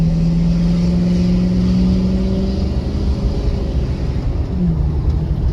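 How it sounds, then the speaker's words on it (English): A Ford 6.7 Powerstroke diesel pickup accelerates at about half throttle, a loud, steady engine drone with rising tonal pitch that holds for several seconds, then dips and shifts near the end, with no talk. "So that right there is only like half throttled. We got up to 55 pretty quick"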